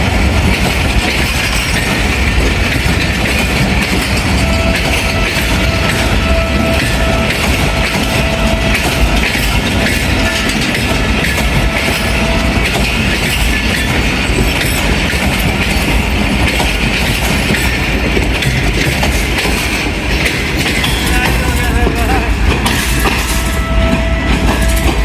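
The Shah Hussain Express passes through Jahanian station at night, a loud, continuous rumble of rail cars with rhythmic clickety-clack of wheels over joints and occasional faint squeal, sustained close by throughout.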